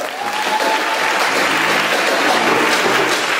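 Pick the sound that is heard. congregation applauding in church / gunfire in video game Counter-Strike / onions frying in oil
congregation applauding in church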